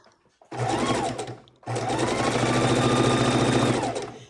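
A sewing machine stitches a quarter-inch seam along the pink border of a pastel house quilt, whirring in two steady runs with a short pause between them, close and loud.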